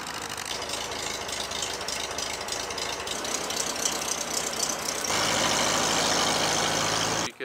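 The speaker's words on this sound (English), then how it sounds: "you can hear the man lift right now" A man lift's engine runs steadily after starting beside a 40ft steel boat being spray painted, a rough, knocking mid-range idle that grows slightly louder and fuller partway through before stopping suddenly.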